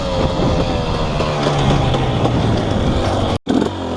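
A 2018 KTM 250SX dirt bike fitted with an FMF Powercore 2 exhaust runs loud and close, its engine note holding steady with rising and falling revs before a brief sudden cut near the end, then picking up again.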